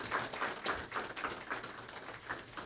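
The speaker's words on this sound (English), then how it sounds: "Give them all a hand clap, please." Scattered hand clapping from a lecture audience at a Black liberation lecture series, fairly faint and thin, with a few distinct claps standing out over a soft background for under three seconds.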